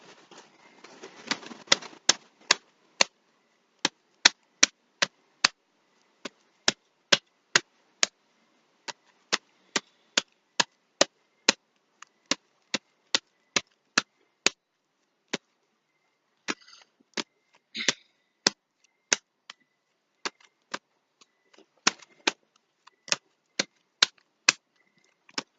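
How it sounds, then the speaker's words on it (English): Tarot cards being shuffled by hand, a long run of crisp, separate snaps and taps in an uneven rhythm, close and fairly loud, with short rustling stretches between them and no talking. "Let me shuffle."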